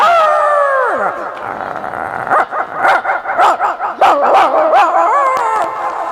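Several people vocally imitate village dogs barking and howling together, with rising and falling howls followed by a burst of choppy yips and barks, close and loud.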